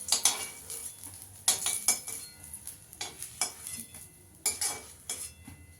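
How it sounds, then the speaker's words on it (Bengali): Eggplant slices fry in a pan while a metal spatula knocks and scrapes against it, a steady soft sizzle under irregular close clinks and scrapes. "এবার একইভাবে সব বেগুনগুলো আমি ভেজে নেব।"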